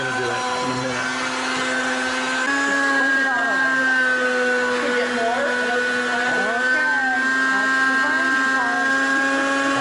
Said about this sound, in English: we're going to grind the raw tomato